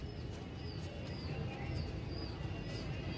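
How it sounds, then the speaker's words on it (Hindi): A Janardan cross pigeon coos softly and repeatedly in a few short, low calls, with steady background noise around it. "ये भाई जनार्दन क्रॉस कबूतर है, जनार्दन में से क्रॉस है ये कबूतर"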